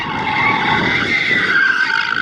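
Mazda Miata drifting on a cone course, its tires skidding in a loud, sustained squeal with engine roar underneath, continuous and close for the whole stretch.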